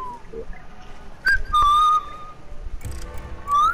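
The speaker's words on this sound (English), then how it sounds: "are you whistling?" A person whistles a few short wavering notes in a Prop Hunt game, heard in brief separate bursts over a low background hum.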